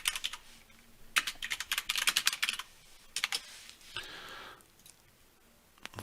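Bursts of typing on a computer keyboard while text is added to a drawing in redline and comment software, with rapid clusters of key clicks separated by short pauses and a steadier stretch of faint noise near the end.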